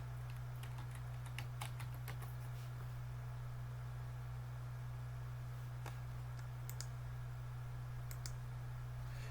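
Scattered, fairly faint clicks of typing on a computer keyboard, in short clusters over a steady low electrical hum.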